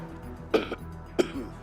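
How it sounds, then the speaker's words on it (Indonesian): Two short, quiet coughs about half a second apart, close by, over a low background hum. "Mungkin saya mau batuk"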